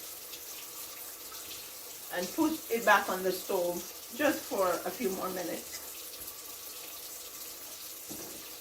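Water pours from a kitchen tap as a saltfish dinner is prepared, a steady broadband rush running under a woman's speech through most of the stretch.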